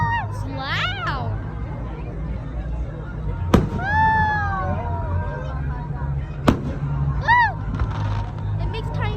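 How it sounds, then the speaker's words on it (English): Small Fourth of July fireworks pop and crackle in two sharp bursts, with whistling rising tones in between, over steady background crowd chatter and low rumble. "It makes tiny fireworks."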